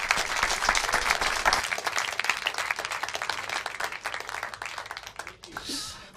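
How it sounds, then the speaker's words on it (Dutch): A crowd applauds the guests at a live sports awards broadcast, dense clapping loud at first then thinning and tapering off, with a voice coming in near the end. "Dank jullie wel en een applaus voor jullie."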